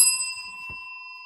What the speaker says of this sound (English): reaches round for his bell.